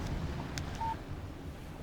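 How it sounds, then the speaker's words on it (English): A phone in the video game Alan Wake gives a single short, clean electronic beep for a text message alert. The tone is brief and fairly faint over a soft background hiss. "Text message from Barry."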